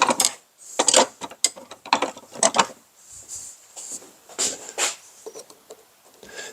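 A screw being worked out of the center of the master voltage selector knob on a Craftsman MIG welder, irregular metallic scraping and ratcheting bursts close up with short pauses between turns.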